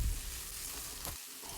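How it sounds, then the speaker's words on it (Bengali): Thinly sliced potatoes and chopped onion frying in white oil in a pan, a steady soft sizzle heard up close and alone, with a faint stir near the end. "দিয়ে সাদা তেল দিয়ে ভাজতে লেগে যান"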